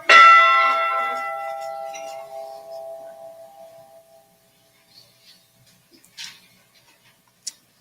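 A model of the Edmund Fitzgerald ship's bell is struck once, ringing clearly and decaying slowly over several seconds, followed by a few faint ticks and small clinks.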